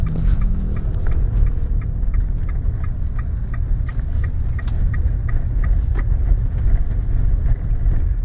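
A heavy Nissan Serena minivan of over two tons cruises slowly, its low steady engine and road rumble filling the cabin evenly with faint ticking above, and no talking.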